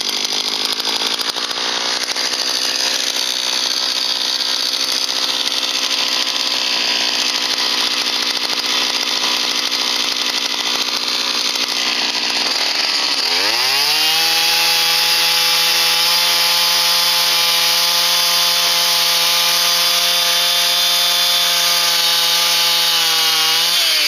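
A gas-powered ice auger boring a hole through lake ice for ice fishing on a frozen reservoir, a loud continuous engine drone that drops to a lower steady pitch partway through as the blade bites.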